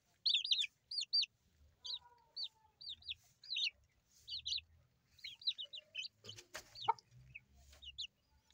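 Hens and a rooster on a backyard farm clucking in short, repeated bursts through the whole stretch, with occasional louder squawks and a busy, close-up chatter of birds.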